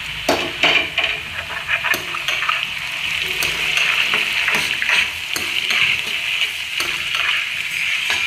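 Amaranth stalks frying with onions in a pan give a steady hiss and sizzle, broken by repeated clinks and scrapes of stirring, close up and with no one talking.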